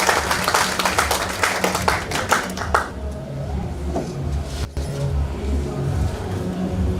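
A church congregation at a New Year overnight service in Kisii town claps in dense, rapid bursts for nearly three seconds, then the clapping stops abruptly, leaving a low, steady hum in the room.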